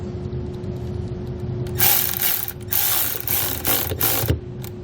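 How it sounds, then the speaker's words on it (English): A ratchet fitted with a 10mm socket clicks in rapid bursts while turning a battery terminal nut on a 2018 Tesla Model 3, close and crisp over a steady electrical hum. "We then want to grab a 10mm socket and remove our positive terminal."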